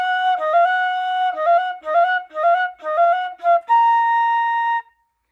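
Solo flute plays the closing measures of a march, a series of clear, detached notes in short rhythmic groups ending on a long sustained tone, close and alone.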